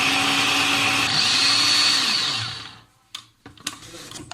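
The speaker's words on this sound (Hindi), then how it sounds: "ये कश्मीरी लाल मिर्च सिर्फ कलर देने के लिए होती है बस। अब इसे हम ग्राइंड कर लेंगे।" An electric grinder whirs loudly up close as it grinds a spice mix with Kashmiri red chilli, its motor pitch shifting midway before spinning down to a stop, followed by a few clicks and knocks as the jar is handled.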